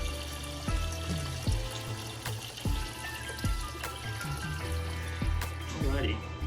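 Water drains from a Fluval FX6 aquarium canister filter through a 3/4 inch hose into a bucket, trickling and splashing continuously with intermittent gurgles, close by, while a person talks over it.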